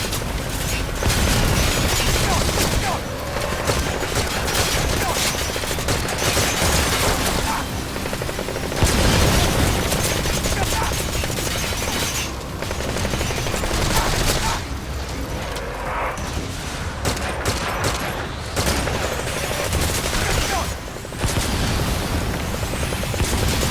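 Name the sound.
enemy gunfire and bombs in Metal Gear Survive video game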